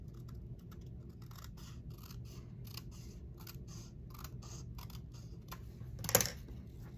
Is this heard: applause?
no